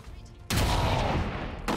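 Sustained automatic gunfire from the XCOM 2 tactical strategy game blasts in abruptly after a quiet moment, a dense, loud burst of rapid shots lasting over a second before cutting off and restarting.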